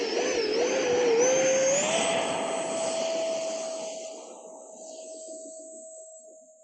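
An Arrows Sabre F-86 RC jet airplane flies over a wet field with a steady, high-pitched whine. The pitch rises as the jet passes, then the sound gradually fades as it moves away.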